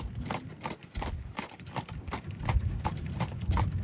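Horses pull a carriage on the Ballyfin Demesne estate, their hooves clip-clopping in a steady, close, even rhythm with no talking over it.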